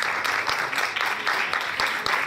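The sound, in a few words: audience applause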